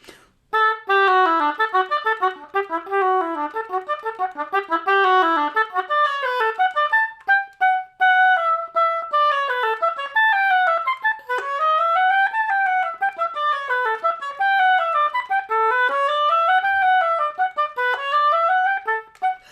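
A keyboard plays a Bach passage one distinct note after another in a steady, deliberate rhythm, clear and close with no voices.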